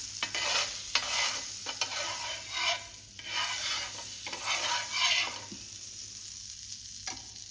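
Butter sizzles on a hot tawa over a gas flame, a steady broadband hiss with occasional stirring scrapes, close and moderately loud with no talking.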